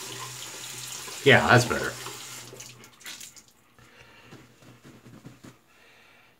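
A shaving brush is rinsed under a running tap, giving a short burst of splashing water that settles into a gentler trickle, and someone speaks briefly.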